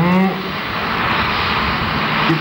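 A pulling tractor at a tractor pulling event in Verl, Germany, roars continuously at full throttle, loud and close, a steady heavy engine drone with little variation and a faint voice beneath it.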